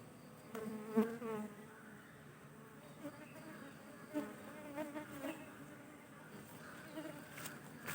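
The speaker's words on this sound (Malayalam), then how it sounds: "നല്ല സ്ട്രോങ് ആയിട്ടുള്ള ഒരു ഈച്ച കോളനി കോളനിയാണ്" A strong honey bee colony buzzes in a faint, continuous drone with individual bees swelling louder as they pass close.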